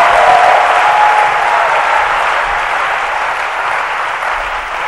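A church congregation applauds loudly and steadily, a dense sustained wash of clapping that eases slightly toward the end.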